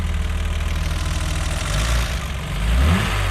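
A stock BMW E30 320i engine, warmed up, runs loud and close with a steady mechanical idle, then rises in a brief rev and settles before revving again near the end.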